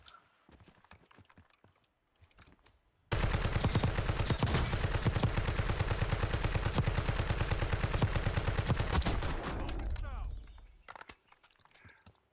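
Rapid sustained automatic gunfire in Call of Duty Warzone, loud and close, firing continuously for about seven seconds with quieter game sounds before and after.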